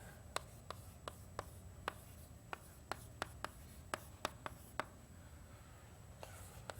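Chalk or marker tapping and scratching out equations on a board in a lecture room, a quiet run of sharp, evenly spaced ticks with faint room hum and no talking.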